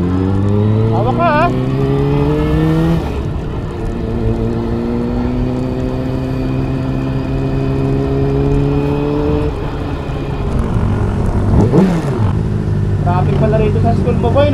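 A Honda CBR600RR big bike's engine drones loudly nearby, its pitch rising and falling as it revs in traffic, while people talk over it.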